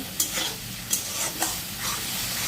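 Rupchanda fish fry in hot spiced oil with a steady close sizzle, punctuated by a few sharp stirring scrapes and crackles, no voices.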